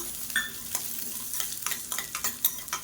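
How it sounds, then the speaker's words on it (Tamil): Fenugreek seeds and small shallots roasting in a pan for a Tamil lunch dish, with soft steady sizzling and faint stirring scrapes and clicks throughout. "இது எல்லாத்தையுமே நல்லா வறுத்துக்கலாம். கருக விட்டுறாமல் வாசனை வர அளவுக்கு வறுத்துக்கலாம்."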